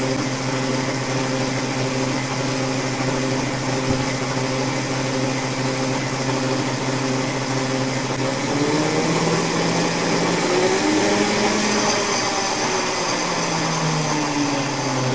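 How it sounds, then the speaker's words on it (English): A 63 kW generator runs steadily and smoothly, giving a loud, constant hum with tonal whine and no pauses, the pitch shifting slightly partway through, with no voices. "The generator is smooth, quiet."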